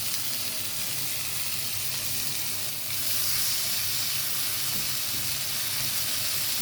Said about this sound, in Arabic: عشان عايزاه بس ياخد تشويحه بسيطه قبل ما احط لسان العصفور